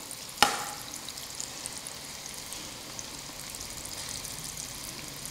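Paneer frying in hot oil for paneer majestic sizzles steadily and fairly quietly, with one sharp clink near the start and no talking.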